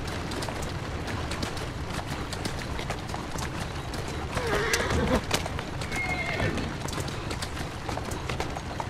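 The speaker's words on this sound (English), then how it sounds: "Who's a good horse?" Horse neighing and whinnying in Assassin's Creed Syndicate, with hoofbeats and street ambience from the game's Victorian London setting beneath it, steady and fairly loud throughout.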